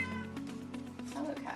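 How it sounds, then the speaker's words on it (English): A cat meows in a home kitchen, giving a drawn-out, wavering yowl that rises and falls over a second and a half, close by, with faint background noise. "Hello cat."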